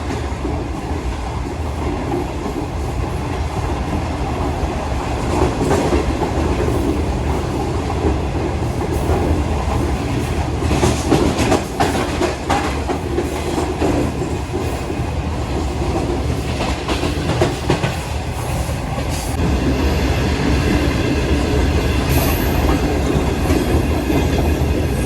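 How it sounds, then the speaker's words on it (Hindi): The 28 Down Shalimar Express, a train between Lahore and Faisalabad, runs on its rails near Faisalabad railway station, heard from inside an AC parlour coach as a constant loud rumble with rhythmic clickety-clack of wheels over rail joints. "फैसलाबाद रेलवे स्टेशन पहुंच रही है 28 डाउन शालीमार एक्सप्रेस।"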